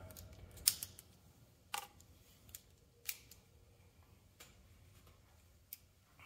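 A fresh blade trims vinyl graphics on a van. A handful of sharp, quiet clicks and snaps fall a second or so apart over faint background hiss.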